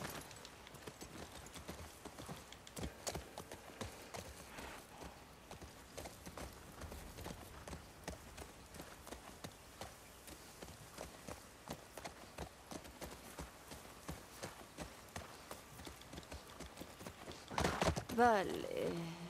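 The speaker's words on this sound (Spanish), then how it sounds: "vamos a coger al caballo." Faint horse hooves clip-clop at a gallop in the video game The Last of Us Part II, a quick steady beat heard under game sounds and a voice talking.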